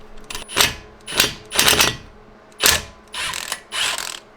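A ratchet works a 10 mm bolt loose from the ABS sensor on a Toyota Avalon during lower control arm replacement, giving six short bursts of rapid clicking with brief pauses between, close and clear with no talk.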